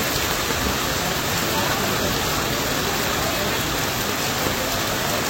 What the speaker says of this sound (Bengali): এখানেও মানে সেই বিশাল জোরে বৃষ্টি হচ্ছে